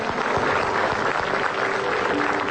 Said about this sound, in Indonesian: Kita harus tepuk tangan untuk semua narasumber